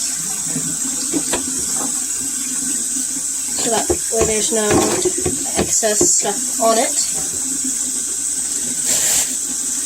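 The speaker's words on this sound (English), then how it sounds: "I just kind of fill a little bit with water and I splash it around and get all the sides" Tap water running and splashing as a hamster cage is rinsed out in a sink, a steady wash of water with intermittent sloshes, heard close under a person talking.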